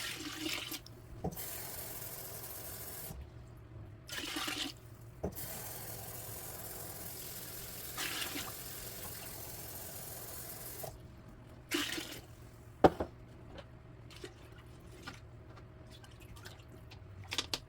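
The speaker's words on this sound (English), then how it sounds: "I usually have to add a little bit more water." Tap water running into a pot of rice, a faint steady stream with brief splashes and a few drips, interrupted by short pauses, close and quiet.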